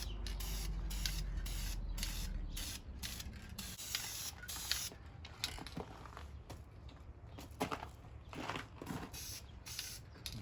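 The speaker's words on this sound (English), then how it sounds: "we're going to paint a lighter color over the top of this netting onto that black back." Short hissing bursts of spray paint as a lighter coat is sprayed over netting onto a black bow, repeated spurts with brief pauses, close and fairly quiet.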